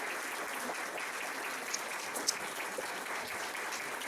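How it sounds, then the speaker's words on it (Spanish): A debate audience gives sustained, even applause for a participant, with dense clapping at a moderate distance continuing without letup and no talk over it. "También un gran fuerte aplauso para Gonzalo."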